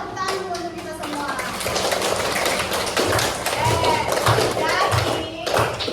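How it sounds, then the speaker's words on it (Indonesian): Students in a classroom clap in a loose, uneven burst of applause, hands tapping and thumping near and far while children's voices chatter over it. "tepuk tangan dulu untuk kita semua"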